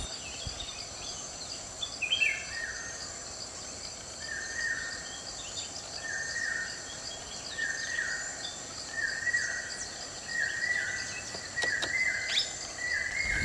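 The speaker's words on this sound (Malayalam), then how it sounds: "കേട്ടില്ലേ, കറുത്തുകൊണ്ടുള്ള തത്ത." A dark-coloured parrot gives repeated short, bright calls at an even rhythm somewhere off in the forest, faint against a constant bed of insect and cricket buzz, with no voices.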